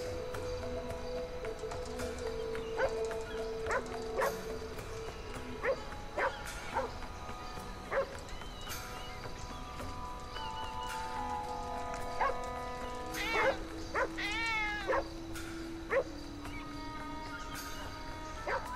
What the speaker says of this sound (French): vous entendez les chiens?